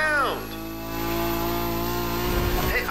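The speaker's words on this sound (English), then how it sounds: "I'm doing a really good job flying this drone." A drone in the racing game The Crew Motorfest hovers with a steady, close buzzing whir of layered tones, holding level for a few seconds before a brief flutter near the end.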